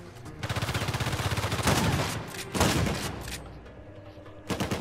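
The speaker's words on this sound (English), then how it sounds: "Oh, it's a fucking shotgun." A shotgun fired in the action video game Uncharted 4, heard as loud, dense bursts of gunfire. Two strong blasts stand out above a continuous rattle of game combat, and a brief voice is heard near the end.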